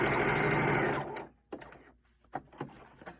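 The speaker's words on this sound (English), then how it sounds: "I'm going to back stitch there to hold that solid." A sewing machine back stitches fabric for a hospital-approved face mask, running with a loud, fast, continuous whir for about a second, then stopping. A few clicks and handling knocks of the fabric follow.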